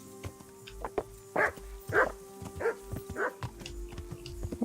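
A dog barks in the medieval game Kingdom Come: Deliverance: a run of five or six fairly loud, evenly spaced barks in a steady rhythm over a low hum and faint background clatter, with no one talking.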